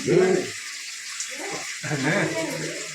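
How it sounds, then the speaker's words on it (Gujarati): A tap runs water into a toilet bowl with a steady splashing flow, close by, while people talk over it. "પાણી બંધ કરજો ને તો કંઈક નીકળે"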